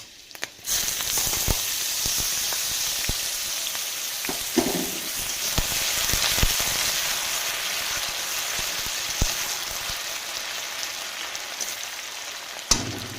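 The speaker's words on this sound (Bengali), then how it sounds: "এর মধ্যে আলুটা দিয়ে দেবো" Thinly sliced potatoes with garlic and chili frying in oil for chowmein, a dense continuous sizzle like heavy rain that starts abruptly after a sharp clatter and holds steady with occasional scrapes and knocks.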